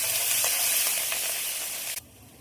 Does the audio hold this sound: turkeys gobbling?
no